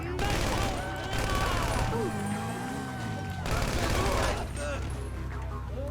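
Rapid bursts of gunfire in the video game GTA V Online, loud and continuous with crashing impacts, under excited talk from players.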